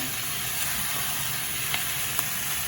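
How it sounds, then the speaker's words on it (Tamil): Whole green chillies, garlic and ginger fry in butter, giving an even, steady sizzle with faint clicks and a brief knock at the end. "நான் இந்த பச்சை பச்சை மிளகாய் முழுசாகவே போடுறேன் பூண்டு இஞ்சி மூண்டையும் போடுவோம்"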